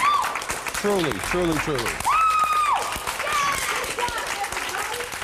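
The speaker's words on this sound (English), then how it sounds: "give yourselves a round of applause" A group of singing-competition contestants applauds with claps and some cheering, while several voices talk and sing over the clapping.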